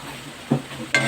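Adobong isaw, a dish of grilled intestines, is stirred in a frying pan. Two quick scraping stirs come over a soft background sizzle.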